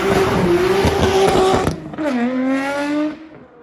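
A Nissan Skyline GT-R R34 engine revs loudly and close, holding a high droning note, cutting off sharply, then climbing again to a strong rising whine before fading.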